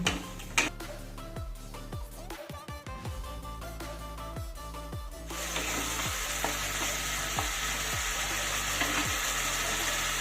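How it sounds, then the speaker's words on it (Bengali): Ground spice masala sautés in a pan with a splash of water for a rice and fish head dish: first irregular scrapes and ticks, then a steady, louder sizzle that continues to the end. "একটু জল দিয়ে আমি কষাবো এবার সবটা মশলা মিশিয়ে নিয়ে একটু কষিয়ে নিতে হবে"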